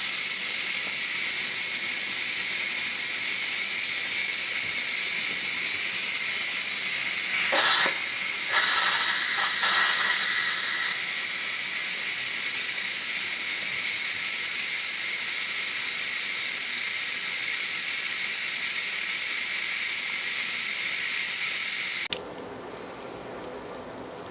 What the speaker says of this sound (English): you get to release the steam